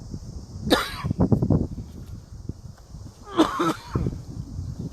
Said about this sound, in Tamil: கொஞ்சம் இருமல்